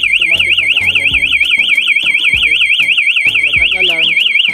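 A fire alarm, set off from a manual pull station during a fire alarm installation training, warbles steadily and loudly with a rapidly oscillating electronic tone while people talk underneath.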